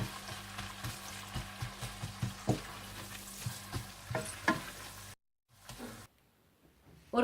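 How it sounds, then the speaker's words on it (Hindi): Whole cumin and chopped onions fry in oil for chicken pulao, a steady close sizzle with rhythmic stirring bumps, then a sudden cut to near silence and a faint hiss, with no talk. "और इसमें आप साबुत जीरा और कटी हुई प्याज डाल दें और इसे सुनहरी माइल ब्राउन कर लें।"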